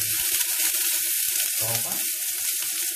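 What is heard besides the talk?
tomatoes added to hot sizzling oil in a pot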